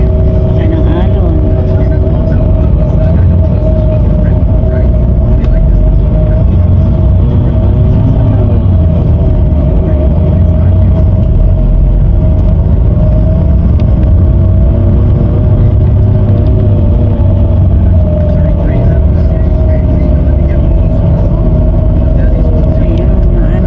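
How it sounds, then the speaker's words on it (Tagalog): The passenger ship Montenegro Santa Brigida drones steadily at sea in heavy swells, a loud continuous low engine rumble with wind and water noise throughout. "Yan po yung sasakyan naming barko, Montenegro, Santa Brigida."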